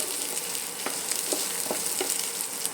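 Chopped onions frying in a pan, a dense continuous sizzle close by with several soft scraping stirs spaced through it, no voices.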